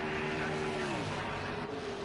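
Stock race cars in a PC racing game roll onto pit road at Texas during qualifying, a steady engine drone with a held pitch and a slight downward glide as the cars slow, continuous and fairly loud.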